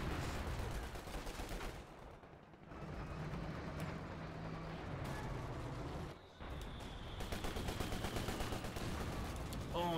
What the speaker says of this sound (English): Oh, nice mortar fire.